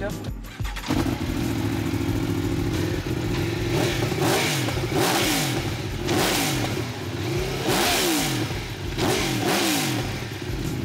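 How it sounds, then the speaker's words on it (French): An Aprilia V4 motorcycle at a track day at Autodrome Montmagny Speedway starts up and revs repeatedly, its engine rising and falling loudly and close by, while people talk over it. "On va faire partir son bike."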